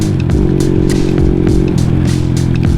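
A small two-stroke Honda ex-postal motorcycle running in New Zealand, its engine a steady, loud, buzzing drone with rattly mechanical clatter, close by and continuous for the whole stretch, with no talking.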